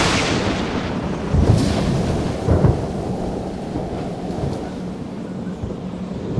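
A thunderstorm with rolling thunder over steady rain hiss, two heavier rumbling cracks standing out near the middle, then a low continuing grumble fading under the rain.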